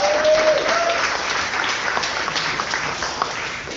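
A startup demo day crowd in Singapore applauds the presenting teams, a continuous burst of clapping with a brief whistle at the start, gradually easing in level toward the end.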